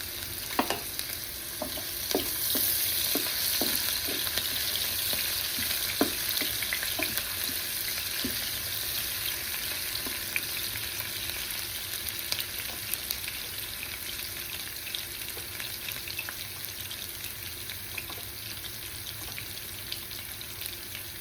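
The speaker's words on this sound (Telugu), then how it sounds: "ఆయిల్ హీట్ ఎక్కిందండి, ఆనియన్స్ వేసుకోవాలి." Onions sizzling and frying in hot oil in a pan for a Telugu eggplant and chana dal curry, a steady close crackle with a few stirring clinks early on and no talking.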